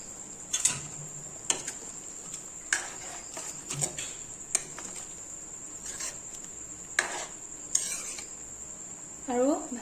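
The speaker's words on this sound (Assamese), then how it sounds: "আৰু ইয়াত পানীখিনি দি দিম আৰু ইয়াতে মই বাঁহৰ গাজখিনি দি দিম" Water and bamboo shoots go into a pot of pork. Scattered clinks and knocks of a utensil against the pot come at irregular intervals over a steady high insect-like whine, with a short stir near the end.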